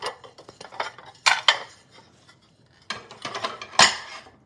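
Ceramic plates and bowls from a small place setting clink and scrape as they are handled and stacked, in two clusters of sharp knocks separated by a brief pause, close up and without talk.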